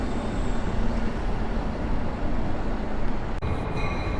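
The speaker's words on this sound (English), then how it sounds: "train line that's making its way coming inbound into San Francisco." A Caltrain train rumbles past close by, heading inbound into San Francisco, a loud continuous roar of rail wheels and engine with steady broadband noise throughout.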